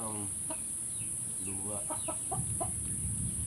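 A chicken clucks nearby in a series of short, throaty calls at an uneven rhythm, with a constant high electronic whine in the background.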